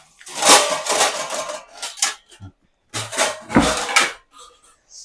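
Ceramic plates clatter and clink against other dishes and cutlery in a home kitchen while sabudana vada is being made, with loud, close, irregular knocks and a brief pause midway.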